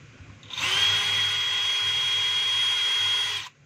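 A DeWalt DCD796 cordless drill spins up and runs steadily for about three seconds with a loud, even whine, then stops abruptly. No one speaks.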